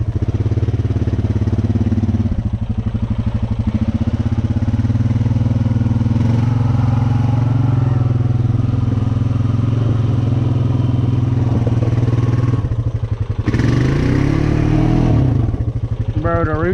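A Honda Rancher ATV drives in reverse through a muddy hole, its engine droning steadily and straining as the throttle rises and falls, with a louder surge near the end and talk in the background.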